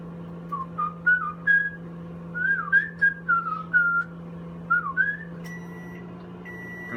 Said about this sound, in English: Nobody can copyright my elevator music whistling